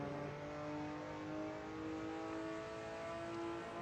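Ruf RT12R sports car at the Mugello circuit as the driver lifts off the throttle, a steady harmonic engine drone easing slightly and holding close and loud.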